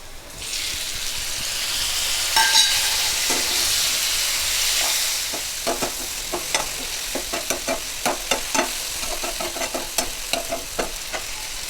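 Onions, green chillies and turmeric fry in a pan with a steady close sizzle, then a run of rhythmic spoon scrapes and stirring knocks takes over in the second half.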